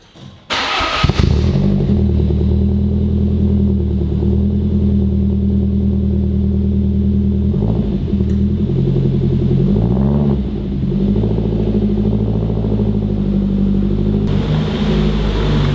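A Lancia Delta Integrale rally car engine starts with a sharp burst, then settles into a loud, steady rumbling idle with a couple of brief revs midway, heard close up with no talking.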